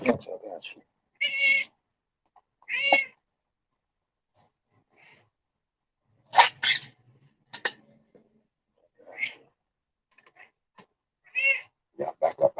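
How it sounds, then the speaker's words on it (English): A cat meows several times in short, clear calls scattered between bursts of nearby human talk, with quiet gaps in between. "That is Sheba the cat. You hear Sheba talking?"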